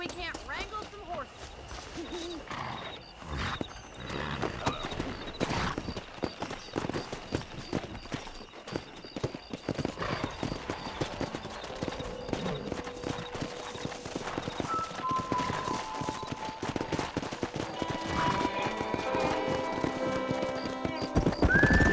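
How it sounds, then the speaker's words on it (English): Horses gallop with rapid, continuous hoof clatter and neigh now and then in the video game Red Dead Redemption, while voices talk over the busy game soundtrack. "Let's see if we can't wrangle some horses."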